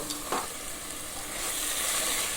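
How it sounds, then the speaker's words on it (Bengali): Spice masala with dried and green chillies fries in a pan for chicken curry, a continuous close hiss and sizzle that swells louder toward the end, with a brief scrape of stirring early on and no voices. "আমি এখন এই মশলাটাকে ভালো করে একটু পাক করে নেব"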